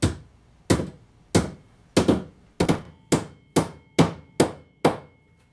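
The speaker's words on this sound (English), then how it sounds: "We're ready to nail it." Hammer blows drive nails into the corner joints of a wooden beehive box, about ten sharp, evenly spaced strikes ringing close by with no talk.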